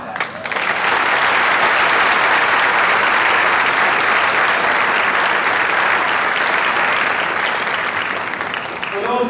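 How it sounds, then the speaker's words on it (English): A large audience at an event center breaks into loud, sustained applause for Brad and Katie, steady dense clapping lasting about nine seconds before tapering off, with voices faintly underneath. "let's give another big old round of applause to Brad and Katie"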